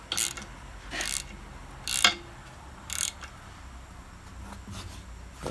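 A socket ratchet clicks in short separate bursts, about four of them spaced roughly a second apart, while tightening a new Autel TPMS sensor on a wheel; close up and fairly crisp, with no talking.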